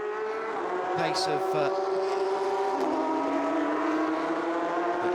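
During a Porsche Carrera Cup Asia 2021 race at Ningbo, a Carrera Cup race car holds a steady, droning engine note as it passes on the circuit. A race commentator talks over it throughout.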